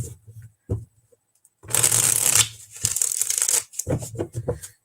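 Playing cards being shuffled during a live stream, in several quick riffling bursts with brief pauses between them, close to the microphone, alongside a few short low voice sounds.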